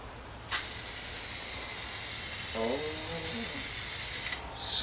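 Base coat paint sprays in a steady, loud hiss from a spray gun onto a Legacy GT duckbill spoiler, running nearly continuously for about four seconds before stopping, with a brief faint tonal sound partway through.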